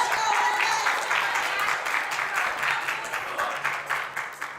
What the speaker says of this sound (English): Lots of applause from the crowd.